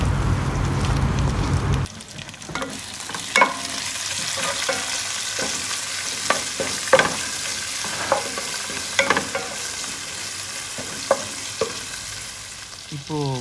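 A spoon scrapes and stirs onion and tomato frying in a pan for prawn biryani. The stirring comes in repeated clacks over a soft, steady sizzle, close by and with no one talking.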